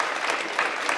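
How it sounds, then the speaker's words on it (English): Audience applause at a Creative Mornings gathering in Tucson, honoring volunteers: a dense, steady wash of clapping hands that fills the whole moment at even loudness, with no voices standing out above it. "So just a round of applause for all these folks."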